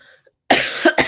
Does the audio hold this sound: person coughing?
yes